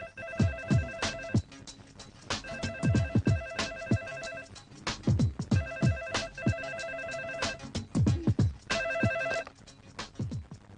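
A phone ringtone plays a repeating electronic melody in several bursts, each a quick series of bright tones separated by short pauses.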